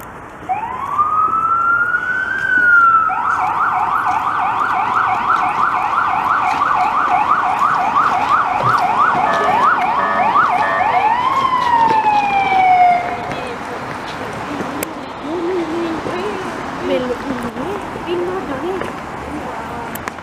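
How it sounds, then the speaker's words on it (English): An ambulance siren wails loudly and close on Pie-IX Boulevard in Montreal, cycling through rising and falling tones for several seconds before fading into steady road noise. "Oh, it's an ambulance."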